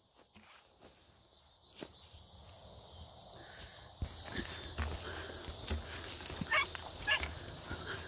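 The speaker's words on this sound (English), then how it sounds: "Two dogs on there." Dogs hunting a rabbit outdoors in brush, with faint yips, whimpers and rustling movement through vegetation growing busier and louder toward the end.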